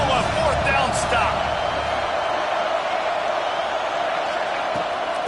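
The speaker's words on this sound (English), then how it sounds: "This crowd busting the decibel meter and trying to will a fourth down stop" A college football stadium crowd roars loudly and steadily before a fourth-down play, a dense, sustained wall of cheering and noise with a few sharp peaks that fills the whole stretch without letting up.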